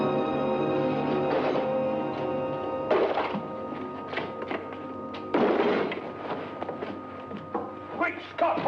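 Heavy thuds of a wooden crate holding a person being dropped onto the ground, set in a 1943 thriller; a couple of dull impacts land amid orchestral music and voices.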